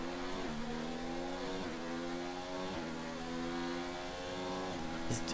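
Onboard engine of a Mercedes Formula 1 car in an F1 racing game, a loud, steady high-revving whine with stepped pitch rises and drops through gear changes, continuous and close.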